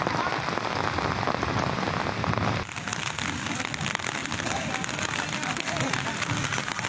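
Rain pours down on wheat at a grain market in Punjab, a dense, steady hiss of drops that shifts in texture partway through and continues loudly throughout.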